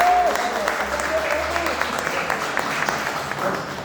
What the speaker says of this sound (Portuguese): Palma, louva ao Senhor.